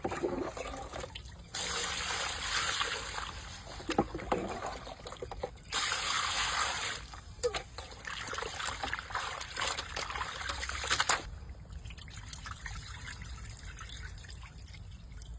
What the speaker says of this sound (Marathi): आपण आता त्या स्वच्छ पाण्याने धुवून घेऊ